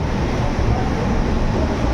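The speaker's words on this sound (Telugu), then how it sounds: "మరియాని జంక్షన్లో 10 నిమిషాలు ఆగిన తర్వాత మన ట్రైన్ అయితే బయలుదేరింది" The Vivek Express pulls out of Mariani Junction, a loud, steady, broadband rumble of the moving train filling the whole stretch with no voices.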